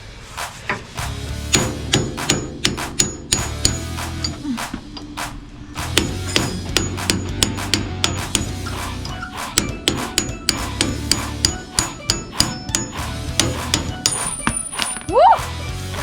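Repeated metal hammer blows drive a rear suspension bushing through its mount on a classic Mercedes-Benz Unimog, a steady run of sharp strikes over a shop background, with a brief ringing metallic scrape near the end.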